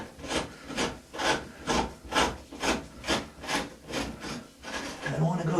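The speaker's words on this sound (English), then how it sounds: "I've got my sheetrock saw, and I'm just going to twist it in there like this" A sheetrock saw is twisted back and forth in a hole in a drywall wall, making about a dozen evenly paced rasping scrapes, close and fairly quiet.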